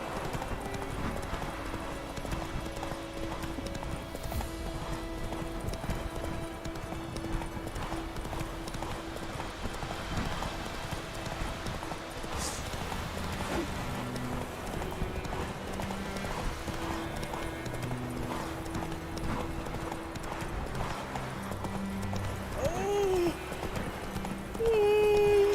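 A horse gallops in the Witcher 3 video game. Hoofbeats keep up a steady rhythmic clip-clop under layered game music and ambience, and a brief neigh is heard.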